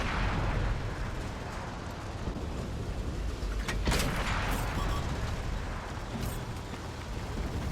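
A light tank in the console version of World of Tanks fires high-explosive shells: a dense, steady roar of battle noise with a sharp, loud shot cracking through near the middle.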